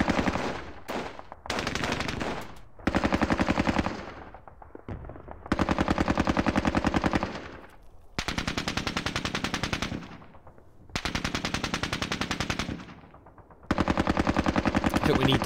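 Gunfire from a John Tiller Falklands War strategy game, night assault on Wireless Ridge: rapid machine-gun bursts repeating in loud clattering volleys separated by short gaps.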